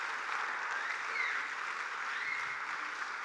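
Church congregation applauding steadily, an even wash of clapping heard from some distance, with no voices over it.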